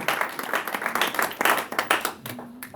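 A church congregation claps and applauds together, a dense, lively burst of many hands sustained throughout, with a faint tone lingering near the end.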